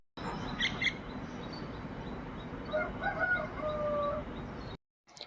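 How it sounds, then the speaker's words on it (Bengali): A rooster crows and small birds chirp at dawn over a steady background hum, the crowing rising clearly around the middle of the stretch before cutting off near the end. "পাখির কিচিরমিচির আর মোরগের ডাকে আমার ঘুম ভেঙে গেল"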